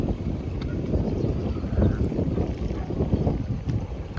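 Steady wind buffeting across an open rooftop in Bacarra, Ilocos Norte, a constant low rumble against the microphone with no breaks and no voices.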